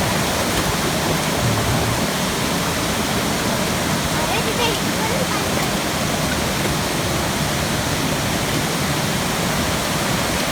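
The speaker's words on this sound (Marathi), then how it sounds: "तर पाण्याचा पोस चांगल्या प्रकारे आहे आणि चांगली धडपडली आहे" Water rushes steadily and loudly, a dense unbroken roar like a fast stream or small falls, close by throughout.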